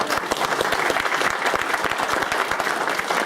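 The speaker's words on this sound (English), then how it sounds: "let's have a big round of applause" Audience applause at the close of a venture capital panel event, a dense, steady round of many hands clapping at once, sustained and fairly loud throughout without pause.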